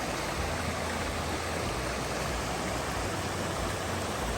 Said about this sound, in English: this appears to be the first of many waterfalls we are going to encounter today